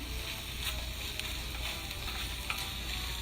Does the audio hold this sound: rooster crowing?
no